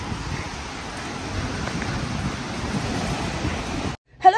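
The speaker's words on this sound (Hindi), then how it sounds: "कितनी बारिश हो रही है आज" Heavy rain pours outdoors in Canada, a dense, steady hiss that stays even and loud before cutting off abruptly near the end, followed by a brief clunk.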